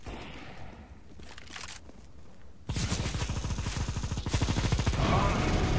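R8 revolver fire in CS:GO with a light, popping, paintball-gun character: quieter game noise first, then a dense, rapid run of close shots that continues to the end.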